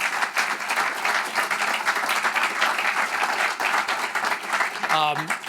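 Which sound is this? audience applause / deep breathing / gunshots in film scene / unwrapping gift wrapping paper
audience applause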